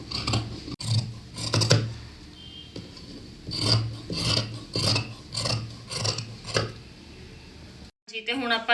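Scissors cutting fabric for a winter suit, with several rasping snips close by, spread across the clip and separated by short pauses, and a brief break near the end.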